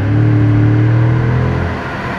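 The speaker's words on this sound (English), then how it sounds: "The whole noise, the sound of the exhaust system is really, always makes me smile" A 2015 Dodge Charger SRT 392 V8 accelerating hard, its exhaust a loud, close, continuous deep rumbling roar with a steady low drone that eases slightly toward the end, no talking.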